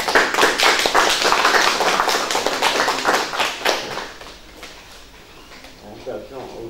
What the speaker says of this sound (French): nous t'applaudissons